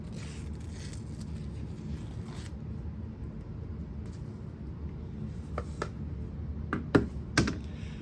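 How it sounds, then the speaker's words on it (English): Soft, irregular clicking of keys being typed on a keyboard of a 486 computer, with a few sharper taps near the end and no talking. "Oh boy, do I like that keyboard."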